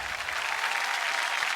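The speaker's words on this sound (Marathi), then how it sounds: "तेव्हा एकदा जोरदार टाळ्या आपल्या ह्या बीडीडी चाळीसाठी होऊन जाऊ देत." Loud, steady applause from a studio audience at a Marathi women's television game show, clapping continuously without pause and with no voices over it.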